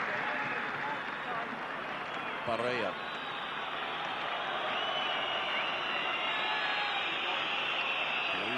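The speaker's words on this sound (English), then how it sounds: "Crowd really appreciating this performance so far." Football stadium crowd at a 2006 Serbia-Montenegro versus Uruguay friendly, a steady broad roar of applause and cheering filling the whole clip beneath continuous match commentary.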